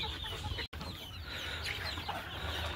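Desi chickens on a poultry farm cluck in a continuous low chorus, with a few louder individual calls rising from the flock. The sound is fairly quiet, with no speech over it.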